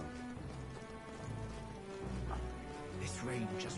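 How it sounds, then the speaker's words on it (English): Steady rain hiss in the video game Metaphor: ReFantazio fills the background at moderate level, with game music tones and a few brief chirps layered over it. "This rain just won't cease."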